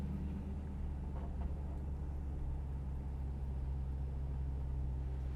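A Hemi-swapped 1971 Dodge Challenger rounds a corner, its engine giving a steady, loud low rumble throughout with no voices.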